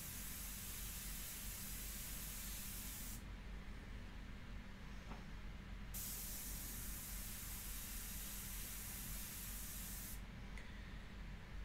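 An airbrush sprays India ink onto paper in a steady close hiss of air that runs continuously, with slight shifts in brightness as the spray changes.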